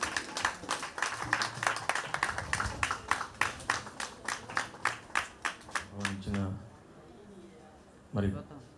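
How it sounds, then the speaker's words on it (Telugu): An audience at a semi-Christmas church celebration claps to welcome a guest to the stage, a dense round of applause that thins into distinct rhythmic claps and fades out, followed by a brief voice. "గట్టిగా ఆయనకి కరతాళ ధ్వనులతో చప్పట్లు కొడుతూ సాదరంగా మరి స్టేజ్ మీదకి ఆహ్వానిద్దాం"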